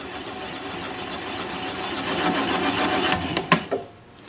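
A wood lathe turns an oval wooden bowl at about 200 RPM with a steady, close mechanical whir and hum, a few sharp clicks near the end, then the motor noise drops away abruptly; no one speaks.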